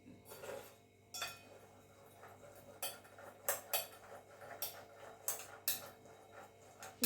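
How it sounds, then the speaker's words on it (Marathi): Green chickpea bhel being mixed in a bowl with a spoon, boiled chickpeas tossed with salt and masala; light scraping and clinking strokes repeat irregularly at close range, with no talking. "आता ह्याला काय करायचं, पूर्ण हलवून घ्यायचं एकदम."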